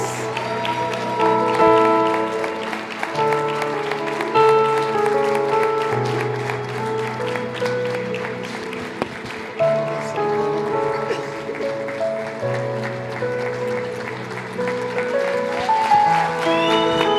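Members of a church congregation clap along for a long stretch while held chords and a melody play over them, the applause a steady patter under the music.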